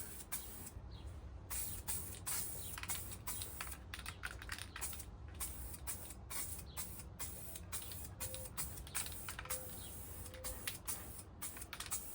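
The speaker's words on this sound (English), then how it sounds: "Just a little rust reformer." Rust reformer is sprayed onto the rear brakes of a VW Bug in short, quiet hissing bursts with brief gaps between them, close by.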